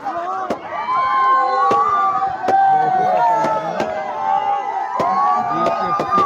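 Firecrackers burst with sharp, irregular pops amid a noisy crowd at a cricket match celebration, with voices shouting and chattering throughout.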